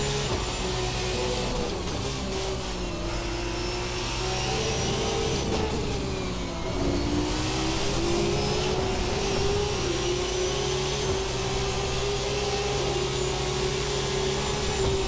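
Formula 2 race car in a racing video game, its engine held high on throttle in fourth gear, a loud continuous buzzing drone whose pitch dips briefly around mid-clip and then climbs steadily again.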